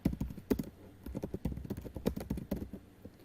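Keys clatter on a computer keyboard while a fee name is entered in point-of-sale software, a close, uneven run of quick clicks with brief pauses and no talk.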